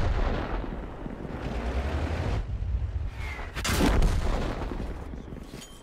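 Heavy tank cannon fire in World of Tanks from an M10 Wolverine Tier 5 match, a single loud booming shot near the middle that lands over a continuous rumbling battle ambience of engine drone and distant blasts.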